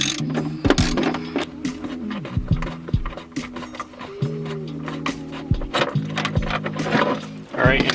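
Ratchet clicking as it loosens the last 14 mm seat belt bolt inside a 2003 Honda Civic Si EP3 during rear seat removal, with quick bursts of pawl ticks and metal clanks close by, interrupted by short pauses.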